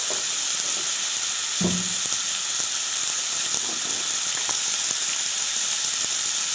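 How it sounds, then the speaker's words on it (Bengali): Potato and eggplant pieces fry in a pan with salt and turmeric, giving a constant hissing sizzle with occasional spatula knocks and stirring, close and even in loudness. "এবার এটাকে মিশিয়ে ভাজা ভাজা করে নেব"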